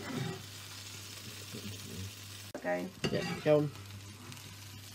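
Mushrooms sautéing in a pan for a Mushroom Wellington, a soft steady sizzle with scraping stirring strokes, while a voice briefly speaks over the cooking.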